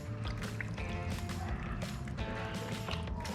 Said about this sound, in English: we're gonna scrape that fat cap off of there